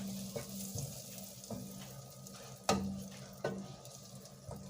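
Butter melting in a pan over a little-less-than-medium flame, with a soft steady sizzle broken by several light clicks and stirring knocks, close by, no talk.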